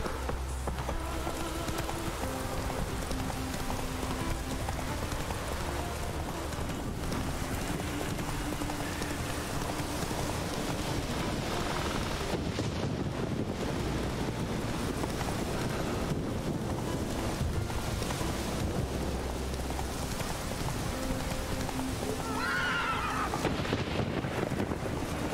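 Hoofbeats of the horse Roach in The Witcher 3 video game, a steady clip-clop under a constant bed of wind and rain ambience, with no neighing evident.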